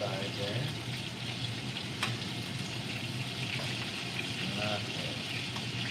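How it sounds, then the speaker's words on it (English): Meatballs sear in a hot pan, giving a steady, close sizzle and crackle with faint stirring and scraping throughout, while a voice talks over it. "Getting that good sear on the side there"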